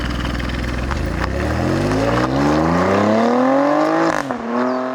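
An Alfa Romeo Stelvio Quadrifoglio engine revs hard on the move: a loud, close roar climbs steadily in pitch for about four seconds, then abruptly drops off as the throttle lifts.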